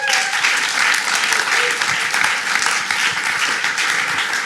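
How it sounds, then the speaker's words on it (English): A conference audience at an angel investor summit claps in a dense, sustained round of applause, loud and close, with no talk over it. "So I'm going to ask everyone for a little round of applause now,"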